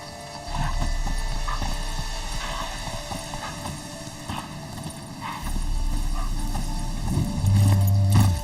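A horse galloping in the video game Witcher 3, steady hoofbeats thudding under a constant tonal hum and ambient background, with a brief low rumble near the end.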